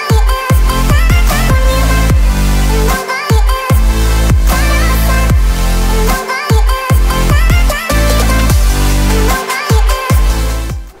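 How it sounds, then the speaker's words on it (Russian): Loud music with deep bass and rhythmic beats playing through the Harman Kardon sound system of a BMW i3 electric car, filling the cabin continuously without pauses. "самое классное, что есть в этой машине, это звук от Harman Kardon"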